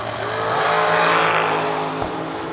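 A drag racing dragster makes a loud, sustained engine roar at a strip event, peaking mid-clip and easing slightly, with a brief sharp pop near the end.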